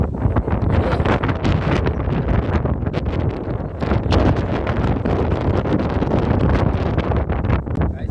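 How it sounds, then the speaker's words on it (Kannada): Strong wind roars steadily across the microphone at Sulekere lake, Davangere, Karnataka, a dense continuous rumble and buffet with no pauses and no voices. "ಇಲ್ಲೊಂದು ಹೆವಿ ಗಾಳಿ ಇದೆ, ಮಾತಾಡಕ್ಕಂತೂ ಆಗ್ತಿಲ್ಲ"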